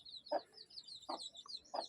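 Country chickens in a farm shed at evening give three short, separate clucks, faint and close, with no talk.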